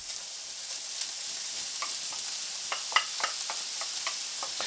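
Chopped mushroom stems sizzle and fry steadily in a pan, with a constant hiss and occasional soft stirring clicks and pops, close and unaccompanied by talk.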